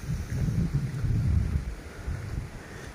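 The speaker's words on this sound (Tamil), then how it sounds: "தண்ணி எவ்வளோ ஃபோர்ஸாக போகுது பாருங்க" Water surging forcefully through the Lower Bhavani canal at Palakarai Bridge in Erode, heard as a low, continuous rumble, fairly quiet and mixed with wind buffeting the microphone.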